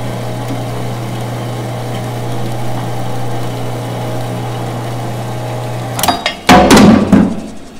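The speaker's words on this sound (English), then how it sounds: "I got that saw cutting." A hand saw cuts a piece off a steel pipe for a helical pile hex-to-square adapter, the rasping bursts loud and close near the end after a long steady engine-like hum.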